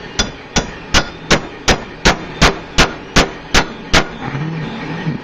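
Eleven sharp, ringing metal hammer blows on a copper bangle land at a steady rhythm, close and loud, followed by a low background hum.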